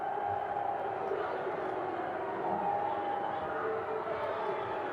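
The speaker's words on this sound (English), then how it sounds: "Listen to the crowd boo." A large crowd at a classic televised Australian wrestling match gives a dense, sustained roar of booing and jeering that stays fairly distant and even throughout.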